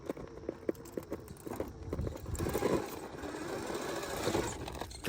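A Furitek Python X-powered 1/10 Perentie RC rock crawler climbs over rocks, its small electric motor whirring in short bursts alongside tapping and clattering of tires on stone, close and moderately loud.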